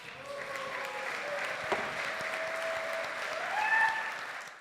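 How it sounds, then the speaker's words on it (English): Applause from an audience honouring tribal leaders in the gallery of the California Assembly chamber during a Native American Day session, a steady wash of clapping that swells slightly toward the end. "Let's give them a round of applause"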